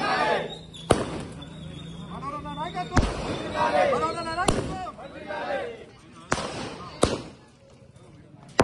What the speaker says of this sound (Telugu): కాంగ్రెస్ పార్టీ నాయకులు, కార్యకర్తలు టపాకాయలు పేల్చి